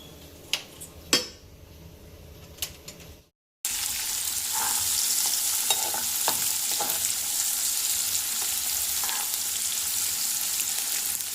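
Mustard seeds, urad and chana dal, dried and byadgi chillies, onion and curry leaves frying in a pan, with a few sharp clinks and a short pause before a steady, close sizzle with stirring takes over.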